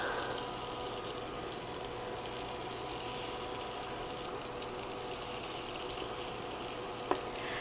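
Yellow squash fritters frying in a pan, a soft continuous sizzle and bubbling that runs evenly throughout, with one brief sharp tap near the end and no talking.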